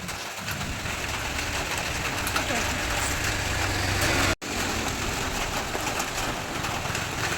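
Heavy rain pours down while out on the road, a dense steady roar with a low engine rumble beneath it and one brief cutout partway through.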